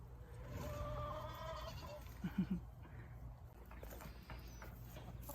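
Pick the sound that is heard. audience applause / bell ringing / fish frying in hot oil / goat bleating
goat bleating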